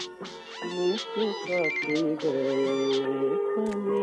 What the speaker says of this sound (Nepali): फोन आइरहेछ हेर त।